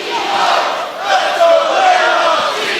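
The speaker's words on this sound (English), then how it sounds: "And we hear the dueling chants" A loud wrestling arena crowd chanting back and forth in rhythmic, competing dueling chants during a women's title match, a dense roar of many voices filling the space.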